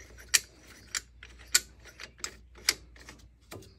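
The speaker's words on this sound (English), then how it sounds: "the Caliper compression tool just to push it back" A caliper compression tool pushes a brake caliper piston back during a rotor replacement on a Chevy Sonic or Cruze, giving a series of about seven sharp, close ratcheting clicks spaced unevenly with no talk.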